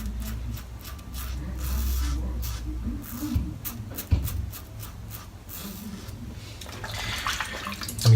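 Warm tap water runs into a sink during a wet shave with a shaving brush, a soft steady flow close by with light rubbing and scraping, and a brighter splash near the end.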